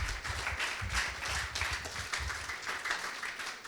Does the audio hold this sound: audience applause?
yes